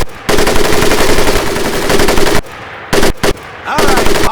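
A mounted machine gun fires loud, sustained automatic bursts in the Medal of Honor Pacific Assault training camp, one long burst followed by short stuttering bursts with brief gaps, very close and dominant.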